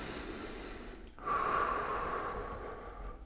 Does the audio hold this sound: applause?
no